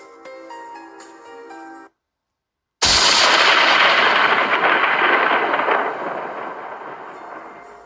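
After a short melodic passage and a moment of silence, a sudden loud crack of thunder from a lightning strike bursts out and rumbles on, slowly fading over several seconds.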